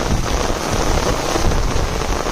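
Pounding rain with wind over a flooded field where lemons are being washed away: a loud, unbroken roar of water with a faint low rumble beneath, no voices.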